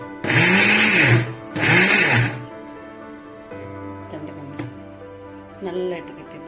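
Short bursts from a mixer grinder pulsing wheat flour: two loud, close whirring pulses, then quieter rattles and a faint voice speaking.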